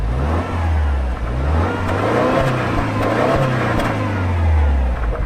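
A Subaru 2.4-liter turbocharged flat-four engine revs and accelerates loudly and close, with a deep, throaty drone rising and falling in pitch throughout.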